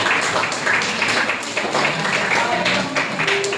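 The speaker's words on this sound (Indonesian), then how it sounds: "Tepuk tangan untuk Nino" Students in a vocational high school classroom clap for a classmate, a short dense patter of hands with voices talking over it throughout.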